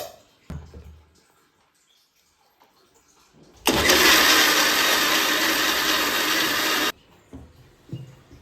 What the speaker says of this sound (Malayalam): അതിന് വേണ്ടിയിട്ട് മിക്സിയിലിട്ട് അരച്ച് വെക്കാം